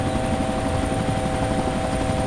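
Helicopter in the military video game ArmA 2, a steady, loud rotor and engine drone with a constant whine, continuous and close throughout.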